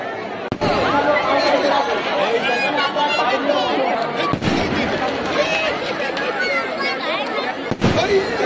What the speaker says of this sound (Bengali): এখন চলছে আমাদের আতশবাজি।